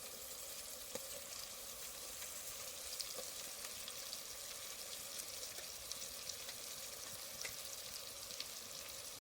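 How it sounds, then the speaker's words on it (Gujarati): Whole spiny gourds (kantola) and potato pieces fry in hot oil, giving a faint, continuous sizzle with scattered small pops and no talking. "તો કંટોલા હવે એમાં ઓરી દઈએ ભાઈ, મસ્ત નાખી દઈએ"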